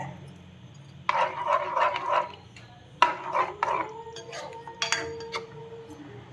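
White sauce for pasta is stirred in a pan, with two bursts of quick metal clinks and scraping from a spoon against the pan, close and fairly loud over a low background hum.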